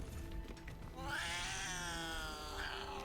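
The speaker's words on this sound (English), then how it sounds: "Oh, look, there's a kitty." A cat in Baldur's Gate 3 lets out a long, drawn-out meow that wavers and rises, loud and close, over a low background ambience of the game.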